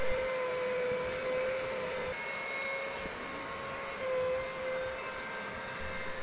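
A FoxAlien CNC router, housed in a plywood enclosure, makes roughing passes 3 mm deep. The result is a steady mid-level whine with tonal hums and a constant broadband whir, continuous and moderately close, with no voices.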